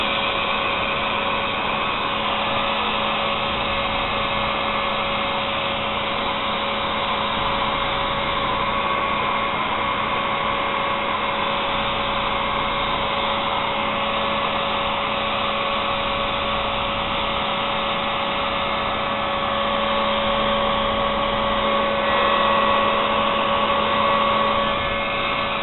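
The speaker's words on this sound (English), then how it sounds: "Turn the heat gun on." A heat gun blows steadily for a long stretch while heating shrink tubing during an old Subaru oil change job, a constant close whooshing roar with little variation.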